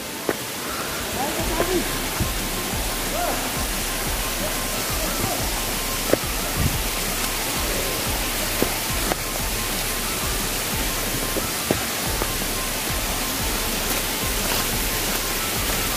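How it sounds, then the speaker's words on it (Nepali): A waterfall at a scenic hiking spot in Nepal pours as a loud, steady broadband roar through the whole stretch, with scattered soft knocks and brief voices faintly mixed in. "झरना आइपुग्यो."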